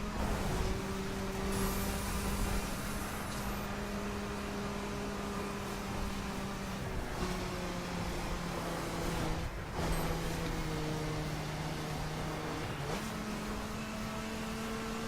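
A 2004 Dodge Ram SRT-10 pickup in The Crew drives at speed with a steady engine drone that holds in gear, shifting up at a few moments, with a brief swoosh early on.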